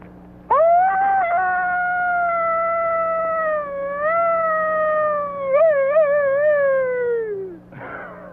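A man imitates a coyote howl: one long, sustained, wavering falsetto note that rises, holds and wobbles, then slides downward and fades, loud and close, with no other voices.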